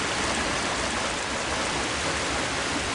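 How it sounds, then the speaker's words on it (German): A loud waterfall in the Harry Potter and the Philosopher's Stone video game roars as a steady, dense rush of falling water that fills the whole clip without a break. "Und der Wasserfall ist laut."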